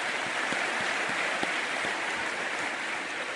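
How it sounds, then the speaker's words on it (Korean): A church congregation claps together during a sermon, an even, rain-like wash of many hands at moderate volume, with a few sharper claps standing out. "하나님께 영광의 박수를 드리겠습니다."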